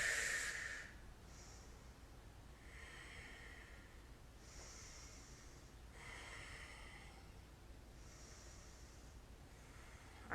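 Quiet, steady breathing during a chair yoga session, with several soft inhales and exhales repeating every second or two, close and faint with no talking.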